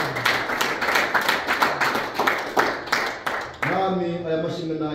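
A congregation at a Sunday school church service claps loudly in a steady, rhythmic beat for several seconds, then the clapping gives way to a singing or speaking voice.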